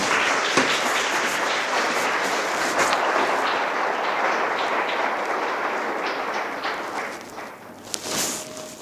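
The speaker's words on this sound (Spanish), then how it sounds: "Denle un aplauso al Rey." A church congregation breaks into sustained, dense applause filling the room, holding steady for several seconds before tapering off with a few last claps.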